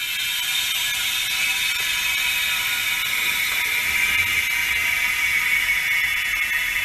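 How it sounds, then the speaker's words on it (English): An air compressor feeding a pneumatic jack, used to lift the rear of a tractor, runs with a steady mechanical whir and rapid ratcheting clatter, continuous and fairly close with no voices. "my compressor just kicked in for a minute"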